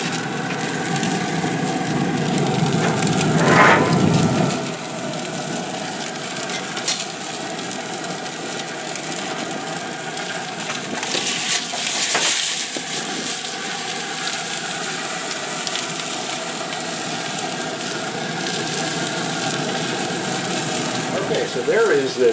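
Tomahawk ribeye steak sizzling on a cooker with the door open, a steady hissing crackle throughout with a few louder pops.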